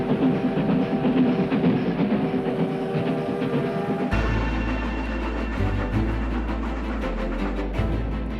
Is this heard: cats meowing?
no